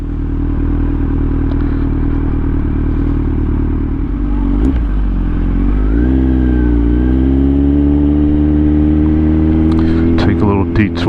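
A Kawasaki Z900 motorcycle rides at low speed through city streets, its engine droning steadily with a rise in revs partway through and some clattering near the end.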